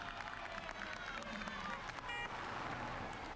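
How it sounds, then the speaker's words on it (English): A roadside crowd at a 1999 Tour of Spain time trial applauds as a cyclist sets off, a dense, fairly distant patter of clapping and cheering under a commentator's voice. "makes a start to a round of applause from the crowd"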